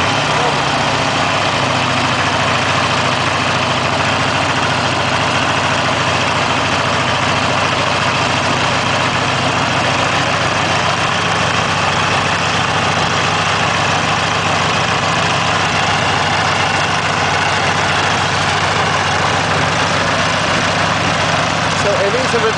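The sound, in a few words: BA Swallow vintage aircraft engine starting up and idling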